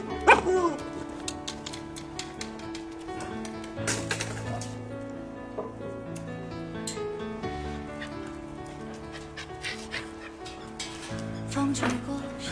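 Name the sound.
puppies fighting and barking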